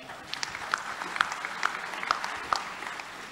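Applause from an audience at the AREBI Summit 2022, a property agents' gathering, a steady patter of claps with a few sharper peaks, moderately quiet and heard without talk.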